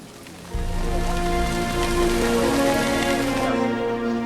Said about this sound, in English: There was constant tropical rain.